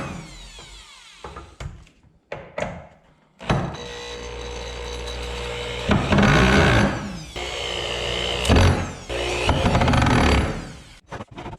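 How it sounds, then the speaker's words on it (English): Power driver running screws into wood while building a ranch water system, several bursts of close whirring motor sound, some short and some several seconds long, separated by quieter pauses. "Let's start screwing these suckers in and building this stuff."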